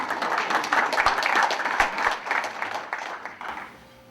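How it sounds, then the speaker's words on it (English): Steady applause from an audience at a counseling organization's tenth-anniversary celebration, many hands clapping fairly loudly before thinning out and fading near the end. "I think you should give yourself a round of applause just for coming here looking like."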